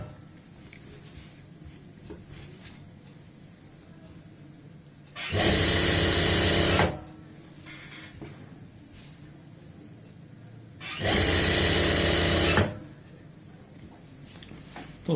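A sewing machine runs in two separate bursts of about a second and a half each while stitching the belt of a churidar pajami, loud and close, with quiet room noise between the runs.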